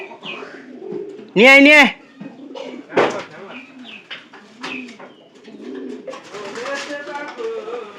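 Pigeons coo in a loft, with one loud, close, warbling coo standing out among softer calls and chirps, while people talk nearby.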